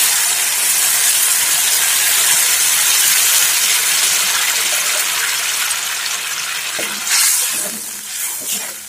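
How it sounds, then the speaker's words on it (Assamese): Steady, loud hiss and sizzle as hot water from a flask meets tomatoes frying in a pan for a spicy fish fry, a broad steaming rush that eases slightly toward the end with a few clattering bits. "এটা গৰম পানী দি দিছোঁ"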